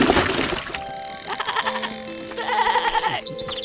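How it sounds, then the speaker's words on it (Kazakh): A goat bleats insistently in a farmyard, several wavering cries in quick succession after a burst of noise, fairly close and heard alone without talk. "Ей, үнің өшкір, Теке. Бақыра берме,"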